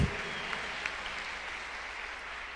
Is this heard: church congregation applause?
yes